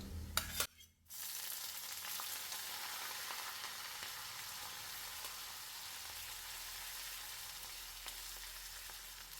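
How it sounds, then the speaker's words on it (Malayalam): After a few sharp clatters as chopped ginger, green chili, garlic and shallots drop into hot oil, a loud, even sizzle of frying carries on close and unbroken with no voices. "ഇഞ്ചിയും പച്ചമുളകൊക്കെ ഒന്ന് മൂക്കട്ടെ കേട്ടോ അതിന് ശേഷം ചെറുള്ളി ഇടാം"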